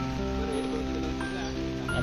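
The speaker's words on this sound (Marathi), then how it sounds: "पाऊस जोरात पडतोय बघू आता." Heavy rain pours outdoors on a road near an old Maharashtra temple outside Pune, a steady dense hiss filling the whole stretch, with a low hum running beneath it.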